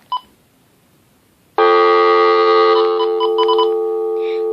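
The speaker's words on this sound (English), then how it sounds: "let's pick up the phone" A Uniden cordless phone on speakerphone gives off a steady, loud dial tone that begins abruptly after a near-silent pause and holds continuously, with a few faint beeps layered over it.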